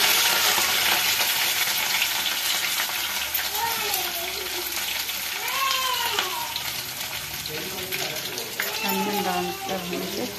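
Onions frying with green chili in a pan, a continuous close sizzle with stirring and scraping while a person talks over it.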